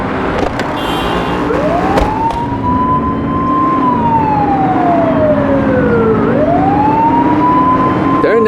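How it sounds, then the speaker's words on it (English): Police car siren in The Precinct video game, a loud wailing tone that sweeps slowly up and down over a running engine, sustained throughout with a second rising sweep near the end. "Turn that siren off."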